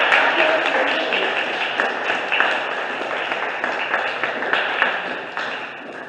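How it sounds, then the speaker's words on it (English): Sustained applause from an audience at a July 2022 open mic poetry reading, a dense continuous patter of clapping hands that holds steady and fairly loud throughout. "Let's have one more round of applause for all of our fabulous"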